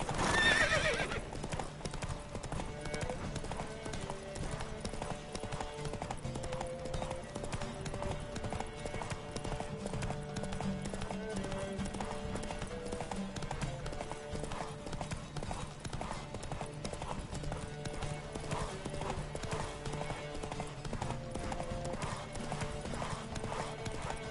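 Horses gallop in a race in the video game The Witcher 3, with steady pounding hoofbeats and occasional whinnies over continuous game music throughout.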